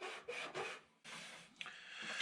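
Wood being hand-sanded flat for a ship's wheel, with short scraping rubbing strokes in a quick back-and-forth rhythm, a brief pause, then more strokes close by.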